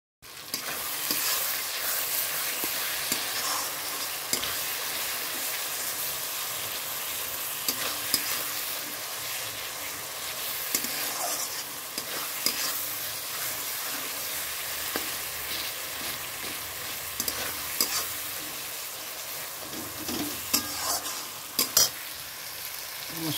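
Cumin, dry red chili and bay leaf fry in hot oil with a continuous crackling sizzle, stirred now and then with scattered scrapes and clicks, steady and close, with no voices.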